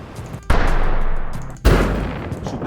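Two heavy, booming blasts hit one after another, each with a sharp onset followed by a long rumbling decay.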